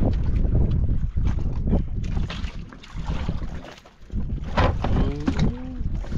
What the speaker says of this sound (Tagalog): medyo maglakas yung hangin